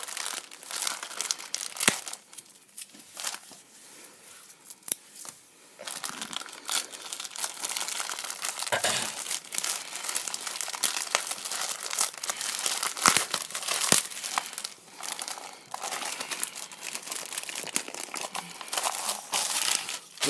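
Crinkly plastic packaging of a WWE Kids magazine being torn open and unwrapped, loud close crackling and rustling with sharp tearing bursts, steady throughout and no talking.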